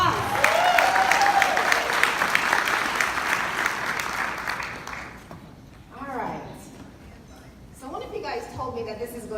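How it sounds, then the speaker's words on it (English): An interview audience claps loudly to welcome the Burgess brothers, a dense burst of applause lasting about five seconds that then thins out, with people talking over the tail. "Can we give them a round of applause?"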